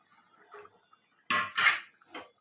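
Fried fish pieces going into a pot of potato and pointed gourd curry, heard as a few soft clinks followed by two louder metallic clatters and a final light knock of utensil on pot.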